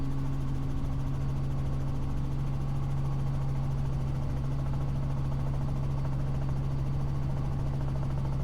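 Robinson R44 helicopter in flight, a constant droning rotor and engine hum with a steady low tone, loud and unbroken throughout, no voices.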